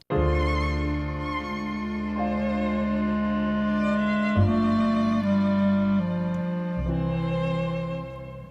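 A 1971 Dutch folk song recording plays as a sustained, tonal musical passage with clear harmonic notes shifting in several steps, loud and unbroken, with no speech.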